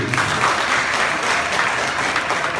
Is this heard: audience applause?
yes